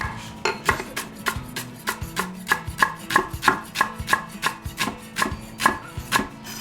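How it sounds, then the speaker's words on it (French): A knife chops leek on a cutting board for a tart, about twenty sharp, even knocks in a steady rhythm, close and clear with no talking. "ce que je vais faire, c'est préparer le poireau. Donc, je vais le couper."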